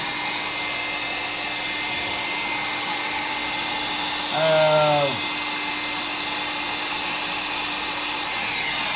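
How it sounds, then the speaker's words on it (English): A hair dryer runs with a steady, even whoosh that continues throughout, briefly joined midway by a short higher whine, with no talking over it. "So back to the hair drying"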